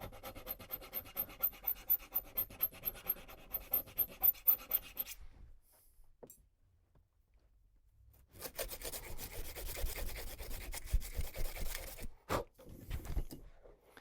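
A file rasps in a quick rhythm of steady strokes while rounding off a metal part of a Savage 87 .22 rifle. After a brief pause, harsher continuous rubbing follows up close.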